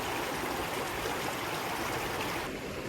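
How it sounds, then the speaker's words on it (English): Fast-flowing river water on a trout stream on a windy morning: a steady, dense rushing and gurgling that fills the whole stretch at an even, close level, with no talking. "So I'm casting it out there into that fast water and letting it drift"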